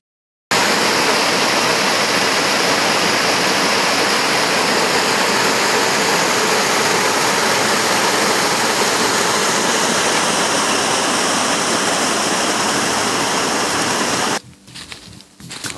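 Water pours through two narrow chutes carved into a large rock at Tomlinson Run State Park, a loud, steady rushing roar close by that runs unbroken before cutting off near the end.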